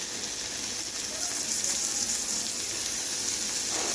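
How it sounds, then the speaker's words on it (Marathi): Chopped onion and finely diced tomato fry in a pan for a spiced potato curry, giving a steady, close hiss of sizzling oil with a broad, even texture throughout, no voices. "आता कांदा बघा छान असा परतून झालेला आहे, त्यामध्ये आपण टाकायचं आहे बारीक चिरलेला टोमॅटो"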